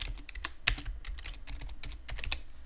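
Fast, uneven clicking of keys on a computer keyboard as a name is typed in during a Linux Mint Debian Edition 7 installation, crisp close keystrokes with a few louder taps and no voices.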